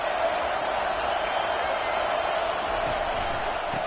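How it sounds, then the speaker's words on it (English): A college football stadium crowd keeps up a dense, continuous roar at steady loudness, a broad wash of massed voices with no single voice standing out. "This crowd bringing the energy and noise early"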